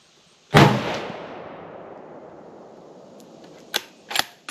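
A single deer rifle shot cracks sharply and loudly, its echo rolling away for several seconds, followed by a few faint clicks and a small thump of handling.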